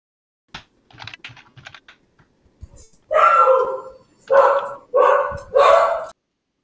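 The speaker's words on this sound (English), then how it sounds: "I think the barking dog just spoke up." A dog barks in four loud, close bursts, each about half a second long and spaced roughly a second apart, preceded by soft keyboard typing.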